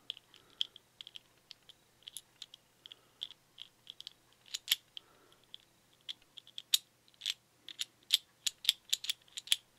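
Metal pieces of a Hanayama Nutcase puzzle click and rattle as the puzzle is twisted. The taps are small, sharp and close, faint and irregular at first and then quicker and denser toward the end.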